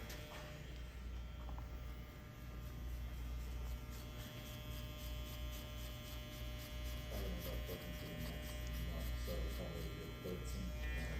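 Barber clippers buzz steadily close by while cutting a skin fade using only the last few blade teeth, a constant electric hum with faint rustling and no break.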